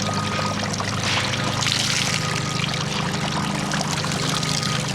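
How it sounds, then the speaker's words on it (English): Rinse water pours and trickles steadily out of hand-washed clothes in an off-grid manual washer, a continuous close splashing flow. "Rinse out the water."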